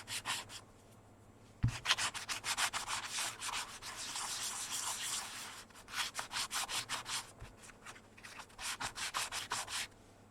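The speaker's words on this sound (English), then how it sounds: "I use fine sandpaper, just remove that." Fine sandpaper rubbing over a carved seal in steady back-and-forth strokes, a long continuous stretch followed by quick rhythmic bursts, close and clear with no talking.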